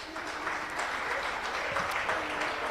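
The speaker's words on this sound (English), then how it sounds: "Let's clap hands for Northwest Province" An audience at a national language stakeholder forum applauds in a steady, full wash of clapping from many hands that stays even and loud the whole time.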